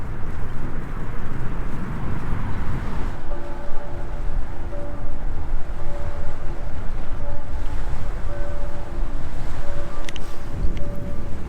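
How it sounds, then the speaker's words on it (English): A ship on the river Rhine drones steadily with a low, even engine hum in the distance, heard beneath constant wind buffeting the microphone throughout. "So that over there is the ship that we've been riding along with for most of the morning."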